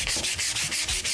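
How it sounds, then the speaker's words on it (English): Sanding a Club Car golf cart bumper by hand: quick, steady back-and-forth rubbing strokes, about five in a second, close and continuous with no voices. "I appreciate all the forethought you're putting into sanding my bumper for me"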